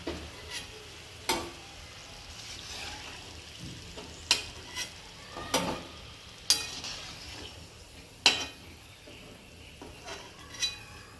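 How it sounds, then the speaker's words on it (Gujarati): Ghughara pastries deep-fry in hot oil with a soft, steady sizzle, broken every second or so by sharp taps of a slotted spoon against the pan, heard close with no speech. "ગોલ્ડન બ્રાઉન થાય ત્યાં સુધી તળવાના"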